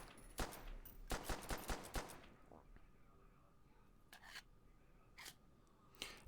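Metallic clicks and clacks of an M1911 pistol reload from Call of Duty: Black Ops 1, a quick burst of sharp mechanical snaps followed by a few sparse, separate clicks.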